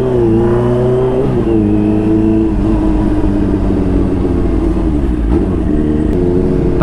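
A Kawasaki H2 motorcycle engine revs loud and close while riding, a steady droning growl with pitch rising and dipping as the throttle changes, with no talk over it.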